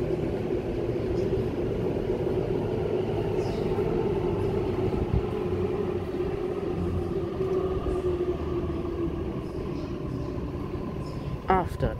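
A Sydney suburban electric train, set A37, rolls past at close range at Chatswood, a sustained rumble with a whining hum, ending in a few squeals and clanks.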